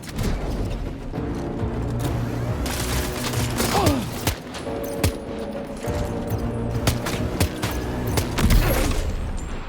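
Gunfire in the video game Death Stranding 2, heard as a steady stream of shots and bursts with clanking mechanical game effects over a constant background, with no talk.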